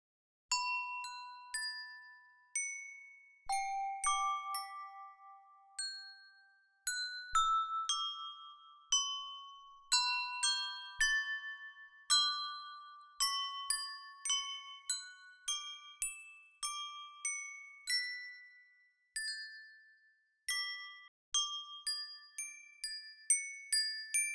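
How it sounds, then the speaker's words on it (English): Festive toy bells sample played as a free virtual instrument: bright, tinkling chime notes struck one after another in loose melodic runs, each ringing out and decaying, clear and alone. "So we'll start with the toy bells, have a little tinker"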